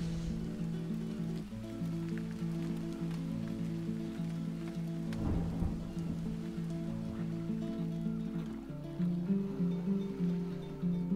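Rain falling steadily in a video game, with a single low rumble of thunder about halfway through, layered over sustained tonal game music with no one talking.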